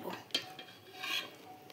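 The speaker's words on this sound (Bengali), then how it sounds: "এখন আমি বাটিতে ঢেলে নেব" Fish curry served from a cooking pot into a bowl in a home kitchen, with a few light metallic clinks and scrapes of utensil against cookware, close and fairly quiet, with no talking.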